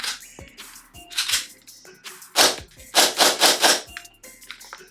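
Jag Precision Hi Capa CO2 airsoft pistol loaded with AW Custom gas firing a quick burst of sharp snapping shots with clacking slide cycling, close and fairly loud, with a few lighter clicks before and after.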